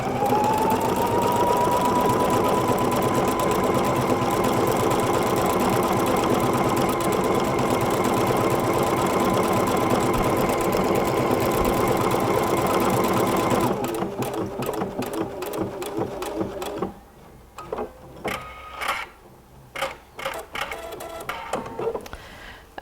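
A PFAFF Creative Icon sewing machine runs steadily, its close mechanical whir stitching at a fine density for about fourteen seconds before slowing into a run of sparser, intermittent stitching bursts with no talk.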